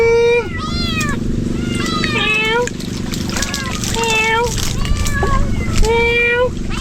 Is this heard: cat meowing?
yes